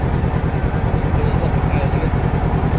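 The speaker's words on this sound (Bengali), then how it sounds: "আমাদের মোট 5টি ট্রলার পর যাচ্ছে।" Trawler boat engines run on a river trip through the Sundarbans mangrove forest, a loud, steady low-pitched chugging with a regular throbbing pulse that continues throughout.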